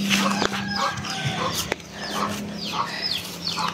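Chickens cluck repeatedly outdoors on a rural lot, mixed with a dog's yips and general farmyard noise, fairly loud and continuous.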